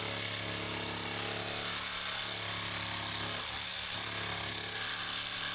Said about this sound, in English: Good practice for the jigsaw again, and I sort of got it spot on.